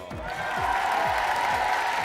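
A studio audience applauds host Vincent Lagaf' on the French game show Le Bigdil, a steady dense wash of clapping over music and a voice.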